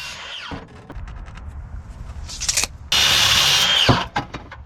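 A power saw cuts thin Sapelli veneered plywood from the back side during a wooden boat restoration, giving several loud bursts of cutting with short pauses and clatter between them.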